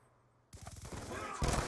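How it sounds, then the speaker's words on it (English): Shotgun blasts from a Remington in a multiplayer shooter game, starting abruptly after near silence with a dense rattle of reports and a louder boom at the end, over faint voices. "Whoa, is he using a shotgun?"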